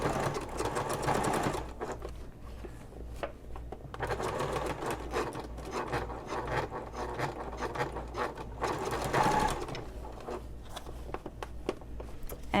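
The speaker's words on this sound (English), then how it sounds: "And I'm going to top stitch across." A sewing machine top-stitches across a messenger bag in several steady bursts of rapid mechanical stitching, broken by short pauses, close and fairly quiet.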